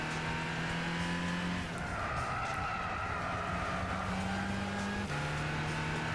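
A 202-horsepower race car in Gran Turismo 6 at a beginner event, its engine droning loud and steady with gear-shift steps in pitch and a whine of tyres through corners, no talk.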